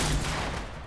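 A loud, close burst of rapid gunfire from a 50v50 shooter game, a brief dense volley that fades slightly within a second, with no voices.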